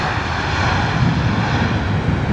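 A Lufthansa Airbus A320neo airliner at London Heathrow in wet, windy weather gives a loud, continuous engine roar close by, with no voices.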